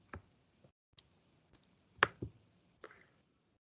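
Several soft, sparse mouse clicks on a computer while marking a task complete in project-management software, quiet isolated taps with one sharper double click near the middle.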